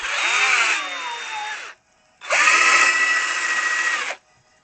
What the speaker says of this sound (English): My drill's running out of power.